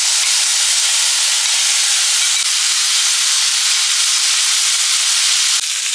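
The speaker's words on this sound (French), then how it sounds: "J'ajoute ma sauce dans les tteokbokki qui sont déjà bien grillés." Loud, continuous sizzling hiss as sauce hits grilled tteokbokki rice cakes in a hot pan, steady and close with no break, two faint clicks along the way.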